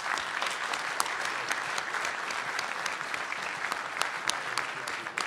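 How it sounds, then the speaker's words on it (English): Applause from an audience at a live panel discussion on criminal law, a dense, continuous patter of many hands clapping, fairly soft and evenly sustained with occasional sharper claps poking through. "I want to give a big round of applause to our panelists who are terrific."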